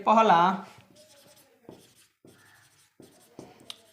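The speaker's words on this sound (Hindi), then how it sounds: "सबसे पहले लिखेंगे" Pen writing on paper during a Class 10 maths lesson: brief scratchy strokes in short bursts with pauses, close and fairly quiet, following a moment of speech at the start.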